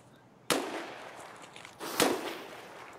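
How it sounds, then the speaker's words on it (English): Two sharp distant rifle reports from sniping in Escape from Tarkov, one at about half a second and another around two seconds, each decaying into a faint echoing tail with no talk. "Someone else is sniping."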